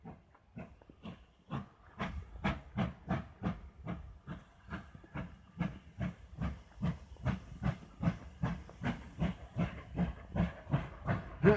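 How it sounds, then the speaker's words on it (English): A steam locomotive chuffs in a steady, rhythmic series of hissing puffs that gradually pick up pace, heard from nearby at Dunster train station with no talking. "it's a different steam engine"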